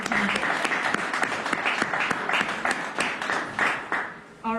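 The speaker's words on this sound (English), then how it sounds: "One more round of applause." A live audience gives a sustained round of applause, dense steady clapping that fills the room for several seconds before tapering off at the end.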